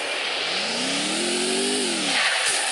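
Motorcycle engine in Free Fire, a steady droning whine that rises in pitch as it revs, holds, then drops off, loud and close over constant wind-like road noise.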